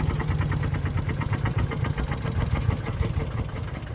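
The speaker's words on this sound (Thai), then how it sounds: "มาดูความแรงของเจ้า อีแตนคันนี้ครับ ใช้คูบูต้าสิบร้อยสิบแรงครับ" A small Kubota-powered farm tractor (e-taen) rated around ten horsepower runs steadily close by, a loud, continuous mid-pitched engine chug with even rapid firing pulses and no talk.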